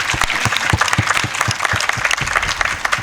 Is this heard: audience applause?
yes